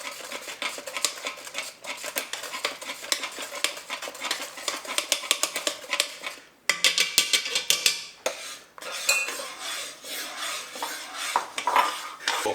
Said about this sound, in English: See how it's still boiling as I stir it, right here.